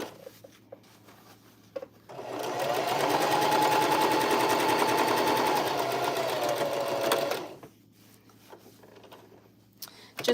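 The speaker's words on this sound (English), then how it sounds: "We're pressing the seam open and stitching it down." A sewing machine runs steadily for about five seconds, top stitching a pressed-open seam on a fabric bucket hat, with quiet handling before and after the burst of stitching.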